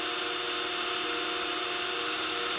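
A power drill with its bit runs steadily in a continuous high whine, loud and close, with no talk over it.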